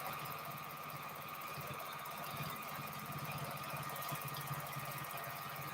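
A home sewing machine running steadily while quilting, a fast even mechanical hum and rapid needle rattle, quiet and continuous without talking.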